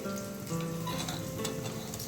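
Food fries in a hot pan during cooking of offering food for a Loknath Baba festival, giving a quiet, steady sizzle and hiss with no voices.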